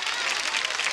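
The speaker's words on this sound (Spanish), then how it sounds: "Un aplauso para ella que quiere pichí." A studio audience at a Spanish-language televised tribute show breaks into a brief, steady burst of applause, dense clapping that fills the whole moment at even loudness.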